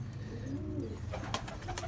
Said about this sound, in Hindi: एकदम अच्छी कबूतर का बच्चा ये देखिए।